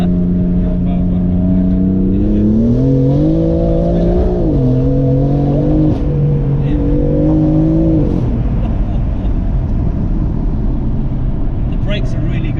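A modified 560bhp BMW M3 engine revs while driving, a loud droning tone that climbs and falls through several gear-like swells before settling into a steady road rumble, with talk inside the car.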